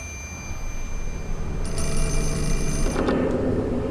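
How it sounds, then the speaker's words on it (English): Telephone rings in the horror game Fatal Frame: Mask of the Lunar Eclipse, a bright electronic ring starting about halfway through over a low, rumbling ambient backdrop, loud and close, with no voices. "Someone's on the phone."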